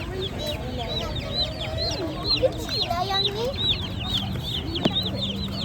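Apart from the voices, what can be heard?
chicks and chickens at a morning market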